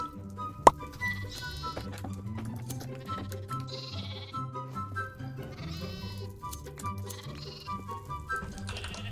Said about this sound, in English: So that means you can continuously shear the sheep